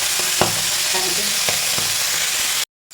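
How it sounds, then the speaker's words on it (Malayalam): Dried sardines, ten small pieces, frying in oil in a pan with a steady close sizzle throughout, broken by a few sharp clatters as they are turned, before cutting off abruptly near the end. "തിരിച്ചും തിരിച്ച് മൂപ്പിച്ചെടുക്കാം"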